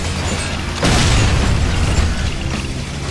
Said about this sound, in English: the gas pumps still explode with deadly force.